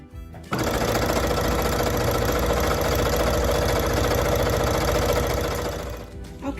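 A sewing machine stitching ribbon onto a tutu, running at steady full speed in a loud, continuous mechanical whir for several seconds after a brief start, then slowing near the end.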